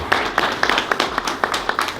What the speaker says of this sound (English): let's just acknowledge our respect for this place by just having a clap